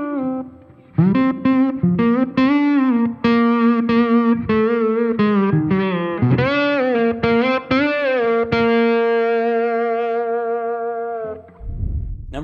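An electric slide guitar with distortion plays a fast lick, sliding notes in quick bursts before a long sustained ringing tone, loud and close with no talk.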